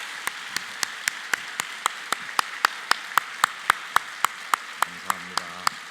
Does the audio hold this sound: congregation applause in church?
yes